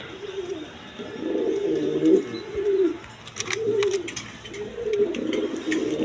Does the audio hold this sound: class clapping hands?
no